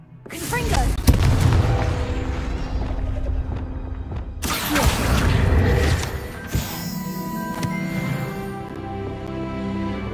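Confringo blasting spell explosions in Hogwarts Legacy, with loud booming bursts and crashing debris, one near the start and another around the middle, then fading rumble and game ambience.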